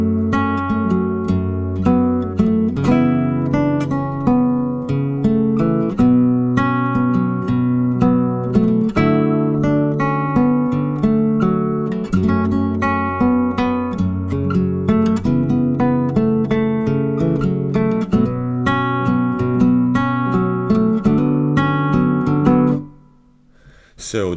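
Fingerstyle acoustic guitar plucks the chords of a song in a steady, close, clear pattern of picked notes and bass strings, continuing alone for about twenty seconds before stopping abruptly.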